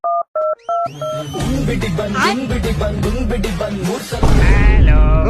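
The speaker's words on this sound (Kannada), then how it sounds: "ನಾನೇ ಹಾಕ್ತೀನಿ ಇವತ್ತು ಫೋನ್ ಅವನ್ಗೆ" Three short, loud DTMF keypad beeps from a phone dialing out at the start, each a clean paired tone, followed by a long stretch of dense, busy sound with strong tonal content.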